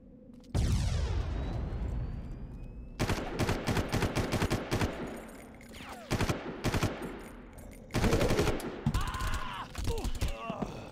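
Gunfire in the video game Far Cry, loud bursts of rapid automatic shots in several volleys with brief pauses between, plus ringing mechanical echoes and a sustained opening blast.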